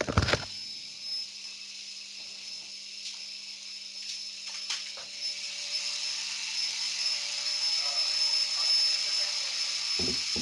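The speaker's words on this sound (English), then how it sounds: "I think it's the vacuum cleaner" A vacuum cleaner whines steadily in the background, a faint continuous high-pitched hum with a low drone beneath, with a few brief knocks near the start and end.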